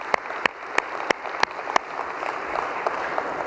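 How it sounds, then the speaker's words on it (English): An audience applauds a band with sparse, distinct handclaps, a few sharp claps standing out early before the clapping thins into a fainter, scattered patter. "How about another great round of applause for this fantastically talented band?"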